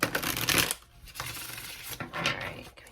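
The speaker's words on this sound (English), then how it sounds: "Let me shuffle one more time." A deck of tarot cards shuffled by hand up close, producing quick riffling and flicking bursts separated by brief pauses.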